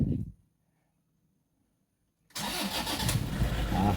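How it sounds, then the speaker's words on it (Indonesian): A diesel car engine cranks and fires after its diesel fuel filter is replaced. A short burst of noise comes first, then near-silence for about two seconds, then the engine catches and settles into a loud, steady running rumble. "Oke, sekarang kita starter ya."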